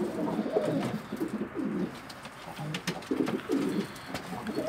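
Pigeons in a coop coo together in soft, repeated throaty bursts, with the birds crowded on the floor and wings bound. The calls come close and steady, with no talking.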